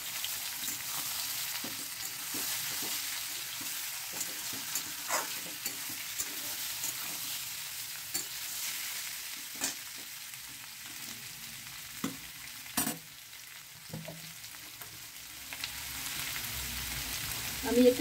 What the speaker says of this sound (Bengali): এবার এই যে সেদ্ধ করে রাখা জিনিসগুলো আলু আর ওল, এটাকে আমি এই তেলের মধ্যে ছেড়ে দিয়ে কষিয়ে নেব।